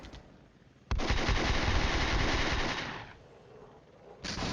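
Tank cannon fire in the Flashpoint Campaigns: Southern Storm war game, a sudden loud blast followed by a long rumbling roar that fades, then another burst starts.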